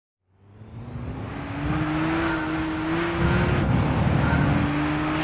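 Race car in Gran Turismo 6 accelerating hard from a standstill, a steady rising engine drone with a climbing whine and a brief shift, loud and close with no talk.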